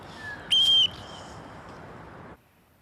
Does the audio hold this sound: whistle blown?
yes